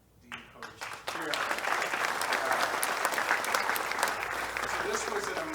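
Audience applause breaks out at a college athletic director announcement, a few scattered claps building after a second into steady, full clapping from a large crowd that holds for several seconds.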